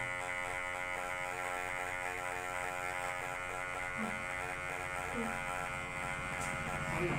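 An electric hair clipper set to zero buzzes steadily as it cuts hair along a line, a close, continuous motor drone with faint shifts in pitch as it moves.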